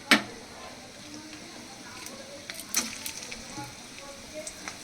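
Finely chopped onion goes into a pan of oil and starts frying for a dish of amaranth greens. A soft, steady sizzle runs throughout, with a sharp clatter at the start and a few scattered clicks.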